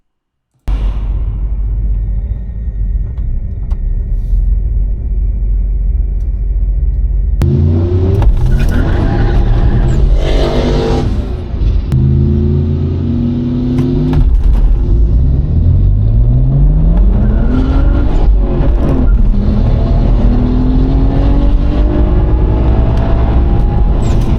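Hardass 1000 drag car launching at the strip, engine roaring loud and close as it bogs briefly then revs hard through rising gears with wheel spin, a continuous heavy rumble with no talk.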